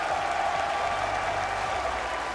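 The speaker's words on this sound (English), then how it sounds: "Give them a round of applause" A crowd at the Call of Duty League Championship grand finals claps steadily in dense, sustained applause, loud and continuous throughout with no pauses.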